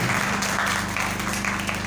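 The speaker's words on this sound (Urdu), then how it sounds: "زوردار تالیاں خدا کے کلام کے لیے بجائیں" A church congregation claps loudly and continuously in praise during a sermon, a dense, close wash of many hands with a low hum running underneath.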